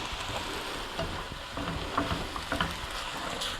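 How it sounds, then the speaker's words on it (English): Vegetables coated in hoisin sauce cook in a pan, with a steady sizzle broken by a few soft scrapes and knocks of stirring, close and without talk. "Let's give it a good stir, let everything get nice and coated and let it all cook together."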